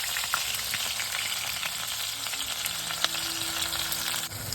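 Onion, garlic, ginger, bay leaf and cardamom frying in oil for a mutton curry, a continuous close sizzle and crackle with occasional sharp pops and clinks, no talking.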